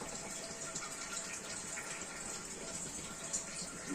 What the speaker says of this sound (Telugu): ఇంకా కొద్దిగా వాటర్ వేస్తున్నాం ములక్కాడలు ఉడకడానికి కీమా ఉడకడానికి